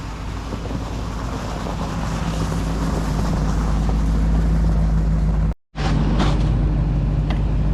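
A snowmobile engine roars loud and steady as the sled labors up a small hill with its rear spinning, the drone cutting out abruptly for a moment near the end before resuming.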